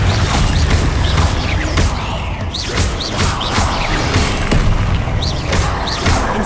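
Rapid, repeated booming blasts from Confringo fire spells in Hogwarts Legacy combat, loud and dense with whooshes and crashing impacts throughout.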